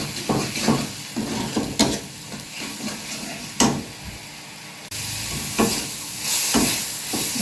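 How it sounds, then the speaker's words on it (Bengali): Barramundi curry spice paste frying in a pan, a continuous sizzle and hiss broken by sharp scraping strokes of a spoon stirring every second or so, close and fairly loud. "মশলাটা ভালো করে কষতে হবে"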